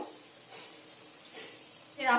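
Ground spices fry in oil with onion, ginger and garlic, a soft, faint sizzle with light stirring, ending in a brief louder burst of crackle near the end.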